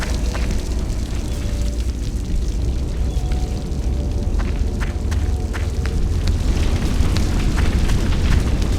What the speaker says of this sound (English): I think the fire is coming closer.